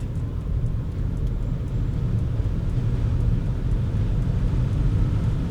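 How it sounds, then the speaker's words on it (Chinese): A Proton e.MAS 7 electric car pulls away under gentle throttle, giving a steady, quiet low rumble of road and tyre noise with no engine note, constant and even throughout. "轻轻点我的加速踏板"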